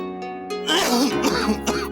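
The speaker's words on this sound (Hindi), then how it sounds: "खांसी के साथ साथ सांस लेने में भी तकलीफ हो रही है" A burst of harsh coughing follows a quieter voiced lead-in, with several rough, strained coughs running together close to the listener.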